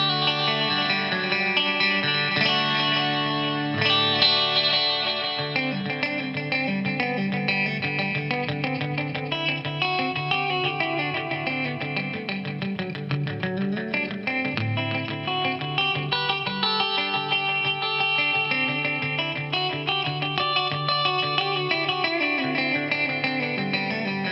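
Guitar played through a Boss RE-20 Space Echo delay pedal, sustained chords and notes smeared by dense, repeating echoes and a warm chorus-like wobble, steady and loud throughout with no talking.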